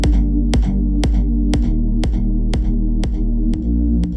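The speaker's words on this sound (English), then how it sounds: "Oops, sorry, I need a 4 on the floor beat." A steady four-on-the-floor kick drum thumps on every beat, about two hits per second, under a sustained low synth pad, loud and close with no voices, built in an EDM production session.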